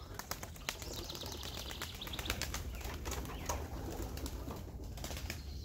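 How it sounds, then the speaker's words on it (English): Pigeons taking flight from a loft, a rapid flurry of wing flaps and clattering beats, dense and continuous at moderate distance, with faint bird calls mixed in. "as soon as I let them out, they all take to flight"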